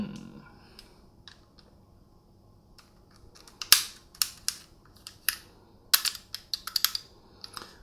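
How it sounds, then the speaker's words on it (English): Sharp clicks and clacks from an Umarex/VFC Walther PPQ airsoft pistol as its slide is pulled back and handled, a quick irregular run of close, crisp mechanical snaps after a quiet start. "you can see when we retract the slide here"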